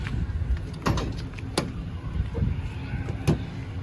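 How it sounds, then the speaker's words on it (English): Rear doors of a 2012 Ford E-250 van with a Braun power lift being opened, with a few sharp latch clicks and metallic clunks nearby and light rattling between them. "open up the back doors all the way"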